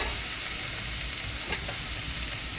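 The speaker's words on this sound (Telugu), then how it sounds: "అల్లం వెల్లుల్లి పేస్ట్ 2 నిమిషాలు వేగాలండి" Ginger garlic paste with coriander and mint fries in hot oil for prawn biryani, a loud, steady sizzle with occasional faint stirring scrapes, close up and with no voices.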